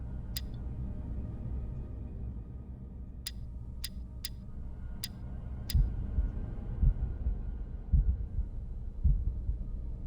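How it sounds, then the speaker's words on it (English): A heartbeat plays in the game The Room as a low, muffled thump that repeats slowly under a soft hum, with a few sharp ticks scattered above it. "Why do I hear a heartbeat?"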